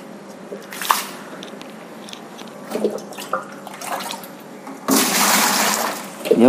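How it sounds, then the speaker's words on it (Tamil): An aquarium sponge filter is squeezed and washed in tank water, giving wet squelching and dripping bursts that build to a loud, continuous gush of water near the end, with no talking. "எப்போவுமே ஃபில்டர் கழுவும் போது நம்மளோட டேங்க்ல இருக்கிற தண்ணி வச்சு தான் கழுவணும்."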